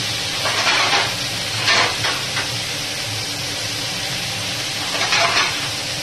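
Vegetables for a vegetarian curry, seasoned with green chilli and a little turmeric, sizzle and fry in a pan with a dense, continuous crackle, swelling briefly a few times as they are stirred.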